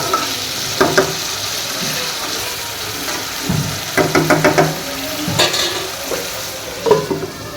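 Okra (bhindi) frying in a pan, a steady sizzle broken by repeated clicks and scrapes of a utensil stirring against the metal, close up with no talk.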